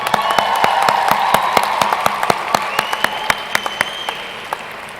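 Audience at a Rutgers University Rites of Passage ceremony claps and applauds steadily, a dense wash of many hands with a few loud, sharp individual claps standing out, holding strong before tapering slightly toward the end.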